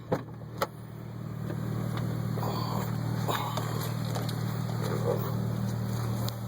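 A 2002 Acura RSX Type-S engine runs at a steady low hum after a couple of brief knocks, continuous and fairly close with no talking.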